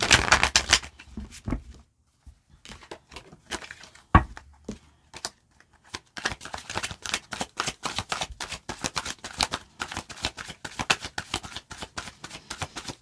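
Crisp riffling and flicking of playing cards being shuffled, in quick bursts with short pauses between, close and clear.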